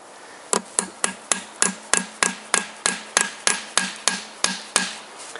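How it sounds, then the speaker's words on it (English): Hammer blows on Toyota VVT-i engine crankshaft bearing parts ring out, about sixteen sharp metallic strikes in a steady quick rhythm, close and clear with no talking. "it seems that I am hammering wrong place"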